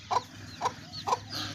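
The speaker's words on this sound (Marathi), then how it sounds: "पोटमाळ्यावर अंडी घालती कोंबडी, आणि 4 पिल्ले घेऊन कशी मिरवायला लागली आता" A hen with her four chicks gives three soft, evenly spaced clucks about half a second apart, fairly faint against a quiet outdoor background with a low hum.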